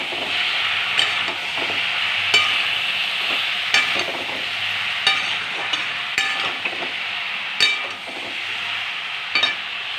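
Fried prawns poured into a pan and stirred sizzle loudly and steadily up close, punctuated by sharp spatula clacks and scrapes against the metal at irregular intervals.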